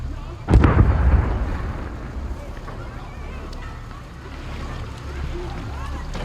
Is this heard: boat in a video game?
yes